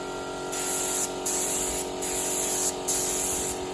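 A compressor-driven spray gun sprays paint in four separate hissing bursts of about a second each, close and loud, with short pauses between them over a constant tonal hum.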